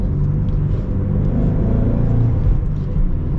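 A Shelby GT350 Heritage Edition engine runs with its exhaust valves closed, giving a steady, muffled low rumble that stays even and subdued throughout, with no clear rise in revs and no talking.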